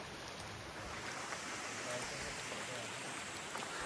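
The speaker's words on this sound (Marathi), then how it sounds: "इकडे पाण्याचा ओढा आहे मस्त आवाजसुद्धा येतो पाण्याचा" Steady broadband rushing of a flowing stream in the Konkan continues throughout, an even wash of sound with no voices over it.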